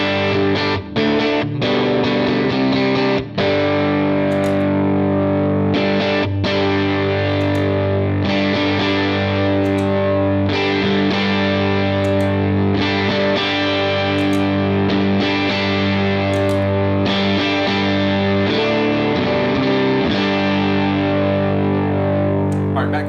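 Electric guitar through a Jackson Audio Broken Arrow V2 overdrive on its yellow setting, played into an amp: a loud, sustained, distorted chordal passage with repeated strummed attacks and ringing harmonics, no talking.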